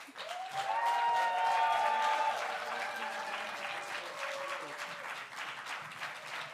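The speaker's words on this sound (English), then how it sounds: "Another massive round of applause" Audience applause for the Dublin winner at the Slam-O-Vision 2024 slam poetry contest, a sustained wash of clapping with cheers and whistles, loudest early and slowly easing off.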